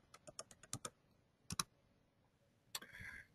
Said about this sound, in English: if you like using your computer's keyboard, that is no problem. I'll do that right now.